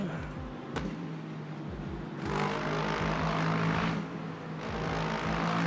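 A Lexus race car in a racing video game: a continuous droning engine note that swells and eases as it revs through gears, steady and fairly loud, with no voices over it.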